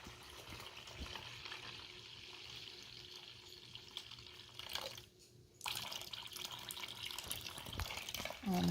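Water, 800 grams in all, pours steadily into flour for sourdough bread, a continuous close trickle and splash that briefly drops away partway through, then resumes stronger to the end.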